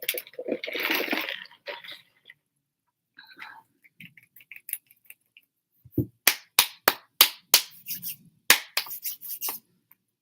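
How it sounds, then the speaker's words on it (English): A single person claps their hands sharply about ten times in an irregular run, loud and close in a quiet room, after a stretch of soft rustling. "I don't know if anyone's wondering why I just clapped."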